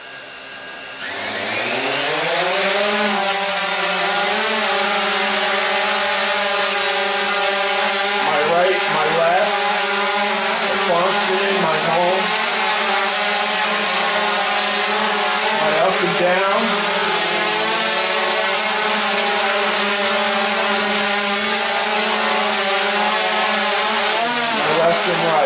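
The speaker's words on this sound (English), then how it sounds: "just briefly test the motors slightly" A DJI Phantom 2 Vision+ quadcopter's motors spin up indoors during a brief motor test, a loud, steady, close whine with shifting pitch that holds throughout, no speech.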